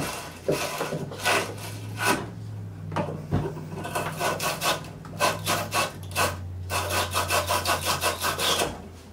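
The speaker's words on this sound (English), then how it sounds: "Get any burrs off from cutting that might have occurred. Like a heavy-duty wire brush." Heavy-duty wire brush scrubbing reused copper pipe, a series of close, rhythmic scratchy rasping strokes, irregular at first and then faster and more regular toward the end.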